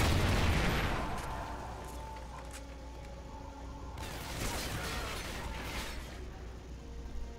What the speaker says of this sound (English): now everything's exploding, right?